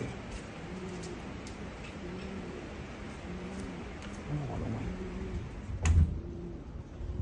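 Pigeons coo in a neighbourhood setting, a steady series of soft low calls repeating through the clip beneath background noise and brief human voices, with a louder bump near the end.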